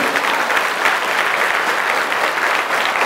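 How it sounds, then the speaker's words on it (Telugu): A hall of tenth-class students at a motivation session claps for their subject teachers, dense continuous applause, loud and steady for about three seconds with no talking over it. "ఈ 10th క్లాస్ను టీచ్ చేసిన మీ సబ్జెక్ట్ టీచర్లందరికీ క్లాప్స్ కొట్టండి."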